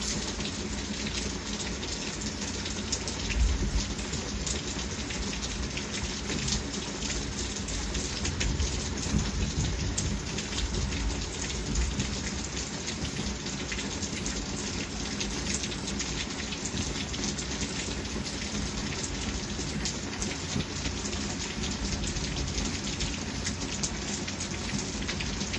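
Steady, dense rain falls outdoors during a thunderstorm, heard near and continuous for the whole stretch with a low rumbling underneath and no talking.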